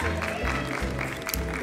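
Applause for a bodyfitness contestant at a competition, a dense crowd clapping steadily under an announcer's amplified voice.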